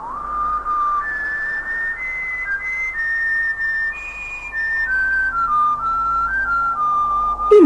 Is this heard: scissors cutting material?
no